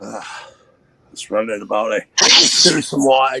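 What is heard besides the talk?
sneeze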